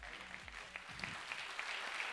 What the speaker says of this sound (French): Bravo, on peut vous applaudir à nouveau.